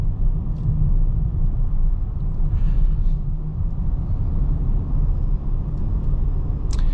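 A 2026 Nissan Rogue Plug-in Hybrid rolls over a bumpy road, heard from inside as a steady, loud low rumble of road and tyre noise with a faint engine hum and a few small clicks and knocks.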